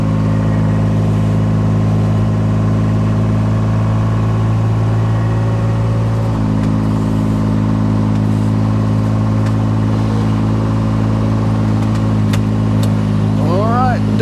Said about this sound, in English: This tractor and pan makes quick work of it.